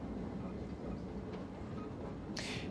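Berlin underground train from Train Simulator 2022, a design dating from the 1920s, rumbles steadily with a constant low rolling drone, ending in a brief hiss near the close.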